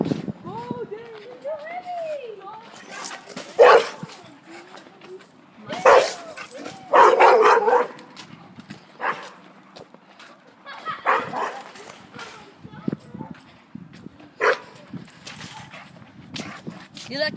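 A dog barks and yips intermittently in short bursts, mixed with voices talking nearby and some clattering.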